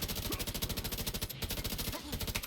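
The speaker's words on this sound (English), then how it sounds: "in case you get overwhelmed, you just switch to a machine gun" Rapid automatic gunfire from a machine gun in The Division 2 during a daylight control point liberation, a dense unbroken stream of shots with layered combat noise and no pauses.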